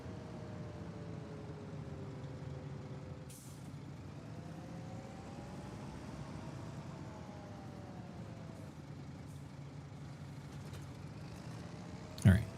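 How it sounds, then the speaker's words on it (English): A farm tractor drives along a road into town, its engine holding a steady droning rumble with a faint whine that rises and falls slightly, ending with a brief sharp knock. "Just driving into town on my tractor."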